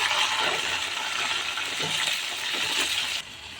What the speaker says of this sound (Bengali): এবার আমি বড়িটা আস্তে অল্প অল্প করে মিশিয়ে দিচ্ছি তেলের মধ্যে।